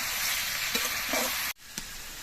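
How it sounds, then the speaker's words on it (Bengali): Vegetables frying on a stove with chilli and salt, a steady loud dense sizzle that drops out abruptly for an instant, then resumes with a brief scrape of stirring. "সবজিটা উনুনে ভাজা হচ্ছে"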